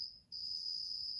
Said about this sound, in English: Sorry about that cricket.